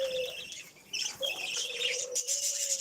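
Budgerigars chirp in a breeding setting, a steady high whistle-like tone running through most of the moment with sharp bright tweets and chatter above it, fairly close and clear with no talking.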